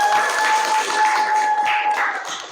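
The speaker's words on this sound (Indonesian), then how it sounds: "Bagaimana, kasih aplaus dong." An upper-grade classroom breaks into applause, a dense, steady patter of many hands clapping close by that fades slightly toward the end over a faint electrical hum.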